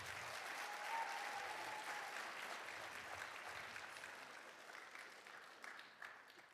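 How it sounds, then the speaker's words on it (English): Audience applause after a live dance performance with music and vocals at a stage debut recital, a steady broadband wash of many hands clapping, sustained and fairly even for several seconds before thinning slightly toward the end. "Let's give Simran another round of applause."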